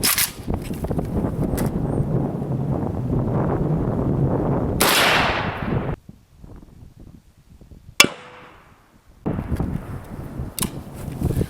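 An AK rifle firing a 7.62x39 round strikes a CATI armor plate outdoors, giving one sharp loud crack with a decaying tail and then a single smaller impact, with no talking.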